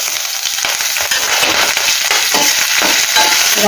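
Chana dal, urad dal and mustard seeds fry in hot oil for a tempering, giving a loud, steady crackling sizzle with occasional stirring scrapes and no speech.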